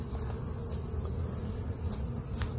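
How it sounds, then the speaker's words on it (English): Carniolan honey bees at an open hive, a close, dense, steady buzzing swarm drone with no talking. "There's a lot of bees on there."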